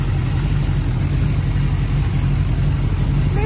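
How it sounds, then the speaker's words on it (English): An Oldsmobile 403 V8 idles steadily on a test run at roughly 600 to 650 RPM, a low, continuous, even rumble that stays close and loud throughout with no other sounds. "Probably idling about 600 RPM, 650 maybe."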